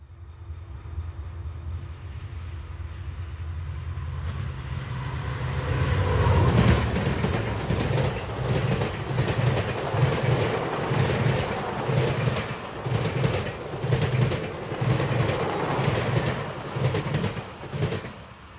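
Amtrak passenger train passing at H.O. Tower on the CSX Magnolia Cut Off in 1992, a rising rumble that turns into a steady run of rhythmic wheel clacks over rail joints, fairly close and loud, with no talk.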